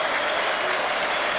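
Football crowd at a Sunderland v Sheffield Wednesday match applauding player Chris Rigg, a brief, loud, dense burst of stadium clapping heard on its own.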